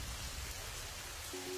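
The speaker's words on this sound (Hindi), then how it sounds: "बहुत तेज बारिश हो रही है" Heavy rain pours down in a dense, steady hiss with a low rumble beneath, constant and enveloping throughout, with no voices.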